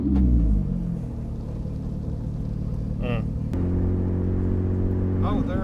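Porsche 911 GT3 engine pulling hard in second gear, a loud steady rumble with rising harmonics that holds strong throughout, heard from inside the car.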